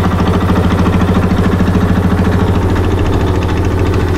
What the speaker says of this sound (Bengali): আমাদের চাচা ট্রলার চালাচ্ছে